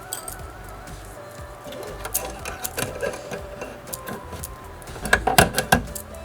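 An embroidery machine stitches details on a Halloween witch design, its needle tapping in quick rhythmic bursts with mechanical clicks, growing busier and louder toward the end.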